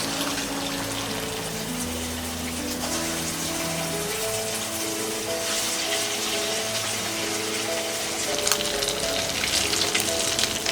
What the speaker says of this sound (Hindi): इस टिक्की को हम डीप फ्राई करेंगे।